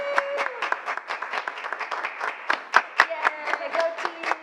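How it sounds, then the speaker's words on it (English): An audience gives a lively round of applause to the cast and crew of a student musical, with sharp individual claps and cheering voices mixed in. "we'd like to ask everyone involved in the show to please stand for the round of applause that they deserve"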